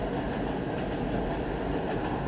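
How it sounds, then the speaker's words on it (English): A train rumbles past nearby, a steady loud roar with low clatter and no voices. "Sorry about the train."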